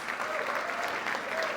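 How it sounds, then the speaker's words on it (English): An audience at an evening panel gathering claps for an introduced speaker, a brief, dense burst of steady applause lasting under two seconds. "So let's all please give Dr. Smitha Ranchod a round of applause."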